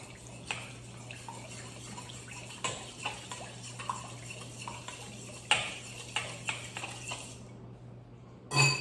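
A spoon stirs a yeast mixture for pizza dough in a bowl, giving light intermittent clinks and scrapes over a faint steady hum, with a louder knock at the end.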